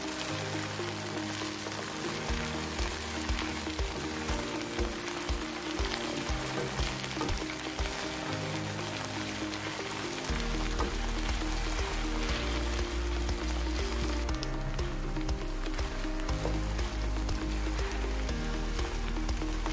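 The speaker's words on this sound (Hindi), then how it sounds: "भिंडियाँ अच्छे से फ्राई हो गई हैं।" Okra (bhindi) sizzling steadily in hot oil in a pan, a continuous dense crackle that stays loud and close throughout with no talk, and there are low rhythmic thumps underneath.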